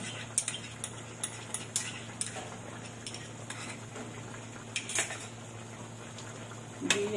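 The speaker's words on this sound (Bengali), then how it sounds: "তো মুরগিটা কষানো হচ্ছে" Country chicken is sautéed in a pan with homemade spices, tomato ketchup and soy sauce, while a utensil stirs and scrapes in scattered clinks over a faint, steady sizzle.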